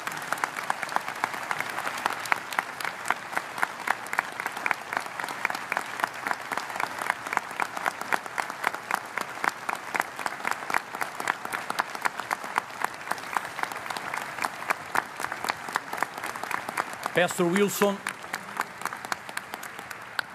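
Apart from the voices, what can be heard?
audience applause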